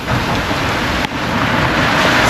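Steady rain falling outdoors near the Double Down Saloon during a motorcycle rally, a loud, even hiss that continues for a few seconds with a brief dip in the middle.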